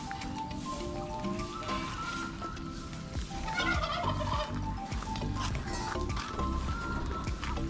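A turkey gobbles repeatedly nearby, its rapid warbling calls rising over a steady background of outdoor noise.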